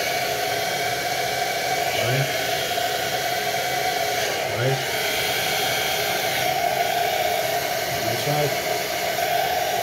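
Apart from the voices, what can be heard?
hair dryer blowing while styling a quiff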